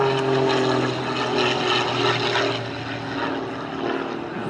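A Pitts Special aerobatic biplane roars past at an air show, loud and near, its propeller blade tips giving a rough, crackling buzz over the engine drone that swells and then slowly fades.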